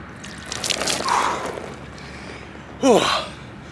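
Water poured over a person at a riverside carp fishing spot gives a soft splash, followed by breathy gasps. A sharper gasp and splash come near the end, close and fairly loud.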